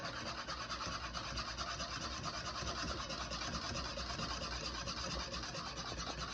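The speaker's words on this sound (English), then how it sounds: "whisk it slowly into the cream" A whisk stirs an egg mixture slowly into cream for crème brûlée in a home kitchen, making a faint, steady, continuous scraping and swishing with no pauses and no voices.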